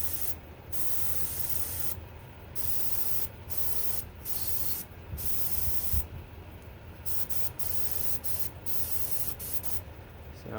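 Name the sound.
single action airbrush spraying chrome paint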